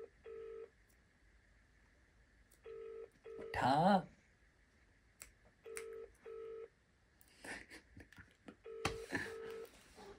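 A phone call ringing unanswered, repeated short electronic ring tones in bursts with pauses between, interrupted by a loud burst of nearby speech and a few other voices.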